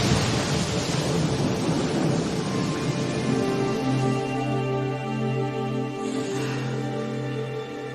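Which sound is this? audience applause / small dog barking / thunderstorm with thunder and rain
thunderstorm with thunder and rain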